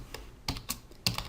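Several keystrokes on a computer keyboard tap out in an uneven rhythm, close and fairly quiet, with no talking over them.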